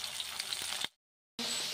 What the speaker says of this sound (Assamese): এয়া মানে মাই মাছ ভাজি।